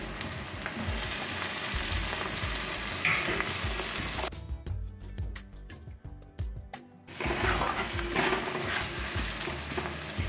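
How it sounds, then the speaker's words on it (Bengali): Prawns are added to a yogurt-based spice masala for prawn rezala, crackling loudly in the pan. The sizzle eases to a quieter bubbling in the middle before surging back, with no voices. "এবার আমি চিংড়ি মাছগুলো দিয়ে দিচ্ছি।"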